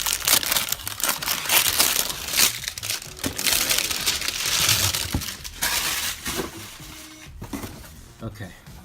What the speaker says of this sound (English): let's unbox it and see what we got.